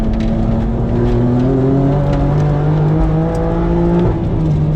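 A BMW M2 on a race track drones loudly from inside the cabin, its engine note holding steady and then shifting in pitch as the car works through a curve.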